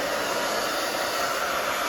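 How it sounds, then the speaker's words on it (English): A hair dryer blows steadily at close range, a loud continuous whoosh while drying hair during a bob haircut makeover, with no voices over it. "And just blow dry this down."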